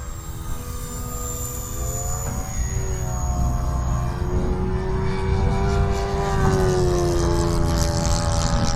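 An E-flite SR-71 Blackbird RC jet with twin 40mm electric ducted fans at full throttle, a steady whining hum with shifting tonal pitch over wind noise, swelling slightly as it passes.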